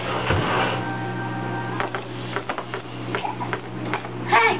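A wind-up toy frog's mechanism ticks in a quick, uneven clicking rattle, close and fairly quiet, with a faint whirring tone early on and some small knocks near the end.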